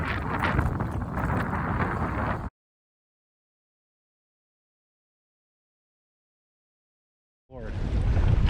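Heavy wind roars against the microphone during kayak bass fishing in an Ohio tournament windstorm, loud and steady for a couple of seconds, then a long silence before the gusts return.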